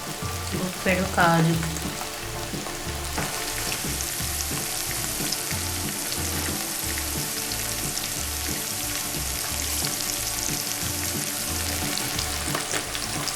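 A handful of cashews frying in hot oil in a pan while mutton pulao is made, giving a loud, steady sizzle with a stirring clatter and a rhythmic pulsing under it throughout.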